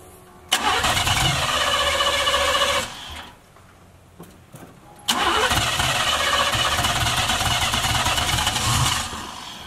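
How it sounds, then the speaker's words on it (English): Box Chevy engine cranks and fires up, runs briefly, cuts out, then restarts and idles loudly and steadily; the restart is up close and loud, with no talking. "crank back up, y'all."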